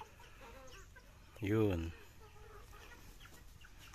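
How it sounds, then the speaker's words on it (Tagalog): Newly added free-range chickens on a farm give one loud, close squawking cluck amid low background noise, and a person speaks briefly. "Yan ang mga bago naming mga manok dito sa farm"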